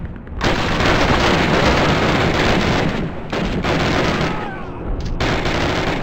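Call of Duty battle gunfire on PC, loud, dense, sustained bursts of rifle and machine-gun fire with a few short gaps, shouted voices mixed into the din.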